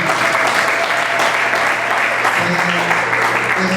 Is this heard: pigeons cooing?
no